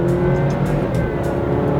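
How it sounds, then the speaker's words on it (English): A 2023 Alfa Romeo Stelvio SUV with an 8-speed ZF gearbox gives a steady, loud engine drone heard from inside the car, with a sustained note that rises slightly and no speech over it. "it's quite entertaining to rev it out as well"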